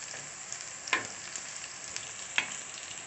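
Shallots frying in a pan for a curry noodle dish, a steady close hiss with a couple of brief louder sizzling bursts, no talking.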